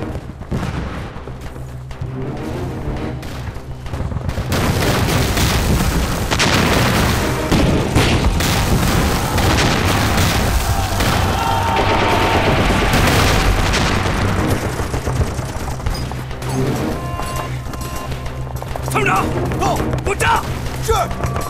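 Staged mortar barrage in a Chinese Civil War TV drama: heavy booming explosions and bursts of gunfire build after a quieter start into a loud, sustained battle din.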